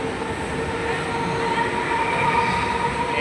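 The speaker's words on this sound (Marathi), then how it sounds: "ट्रेन आले आता." A suburban train pulls into Khandeshwar station, its wagons rumbling steadily with rail noise and faint wheel squeal. The sound is loud and close and continuous, with no voices over it.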